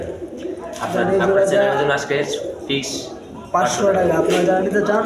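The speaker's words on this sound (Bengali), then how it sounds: "এখানে আরেক জোড়া কবুতর দেখতেছি গিরিবাজি" Giribaz pigeons cooing in a pigeon market, their soft repeated coos and wing rustles mixed with steady nearby chatter and crowd noise throughout.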